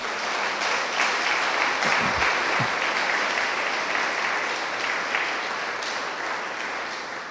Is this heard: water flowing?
no